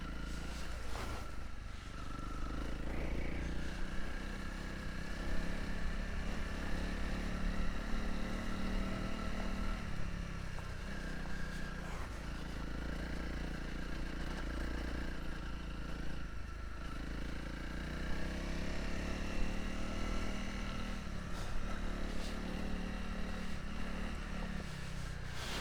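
A single-cylinder motorcycle engine running continuously at moderate revs, a steady throbbing drone with slight rises and falls in pitch, close and fairly loud.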